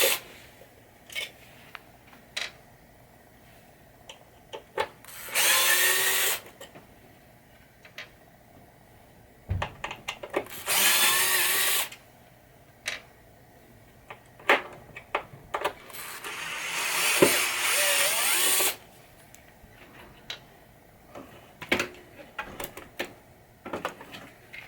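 A power screwdriver removes screws from a Williams electromechanical pinball machine under repair, giving three separate close whirring bursts of a few seconds each, with scattered clicks, taps and handling knocks between them.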